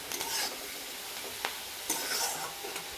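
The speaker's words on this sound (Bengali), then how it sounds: "তো দেখো পেঁয়াজটা মোটামুটি ভাজা হয়েই আসছে" Onions fry in a pan with coriander powder, ginger paste, salt, sugar and a splash of water, giving a soft, steady sizzle broken by a few sharp scrapes of stirring. It is quiet and close, with no voices.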